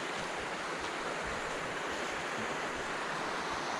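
River water rushing steadily through the Sipsey Wilderness, a dense broadband wash with no voices, continuous and fairly close throughout.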